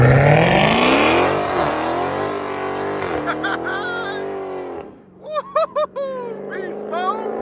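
A BMW M5 with a muffler delete revs hard, its exhaust climbing in a loud rising roar and then dropping away, followed by people cheering and whooping.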